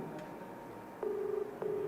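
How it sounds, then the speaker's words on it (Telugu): Ringback tone on a phone call to a women's college lecturer in Visakhapatnam: two steady low buzzy ring bursts, the first about half a second long and the second starting just after, heard close over faint line hiss. "రింగ్ అవుతుంది."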